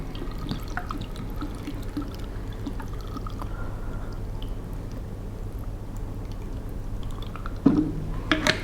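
Water poured into a jar, a low, steady trickle and gurgle that continues for several seconds beneath a constant background hum, ending with a brief louder clunk.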